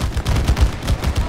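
A rapid run of cracking explosions from the video game It Takes Two pops in quick uneven bursts, loud and close, like a string of gunfire-like bangs with no talking.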